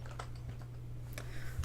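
Keys clatter on a computer keyboard hidden under a desk, a short run of quiet, close taps over a low electrical hum.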